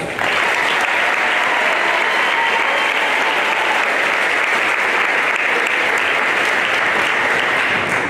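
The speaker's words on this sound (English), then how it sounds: "Please give him a round of applause." Sustained, loud applause from a large high school graduation crowd honoring two students who enlisted in active-duty Army service, a steady dense wash of clapping lasting the full stretch.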